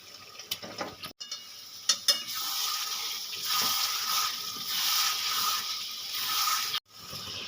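Fried pointed gourd is stirred into a yogurt masala in a pan, a spatula clinking and scraping against the pan over a steady low sizzle, close and moderate in volume, with no speech.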